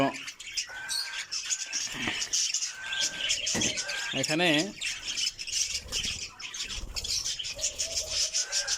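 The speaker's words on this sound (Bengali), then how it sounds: "সবগুলো পাখি একসাথে আসলে অনেক সুন্দর লাগে" Cockatiels and budgerigars squawk and chirp together at a bird farm in a dense, continuous chorus of sharp calls and warbling trills. A person speaks briefly over the birds.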